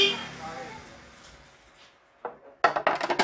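Melamine plastic crockery dishes being picked up and set down in a wholesale market, a few clattering knocks and clinks near the end after a stretch of talk.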